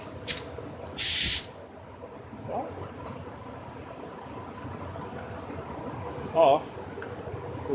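A Mophorn non-dismantle fuel injector cleaning machine hisses out pressurized air in two short, sharp bursts, one loud and one fainter, over a steady low background hum.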